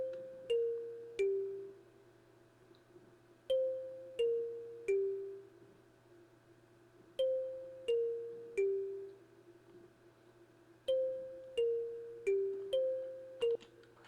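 A kalimba-style bell from the Purity plugin plays short repeating melodic phrases of three or four plucked notes, each decaying quickly, with clear gaps between the phrases in an ambient beat.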